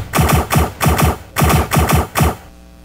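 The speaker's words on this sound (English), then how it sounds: "My attacker bot's down there with his rockets and machine guns" Rapid bursts of machine-gun fire from an attacker bot in the Block Fortress video game, six loud rattling volleys in quick succession, each lasting about a quarter second, then a fading tail.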